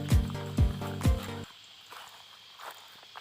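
Footsteps on an outdoor path beside rice fields land in three firm, evenly spaced steps close by, then fall to a few faint, scattered scuffs in the quiet.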